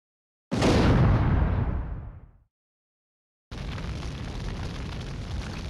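A loud explosion erupts in the fighting game BlazBlue: Continuum Shift Extend, a sudden roaring burst that fades over about two seconds, followed by silence and then a steady rumbling noise bed.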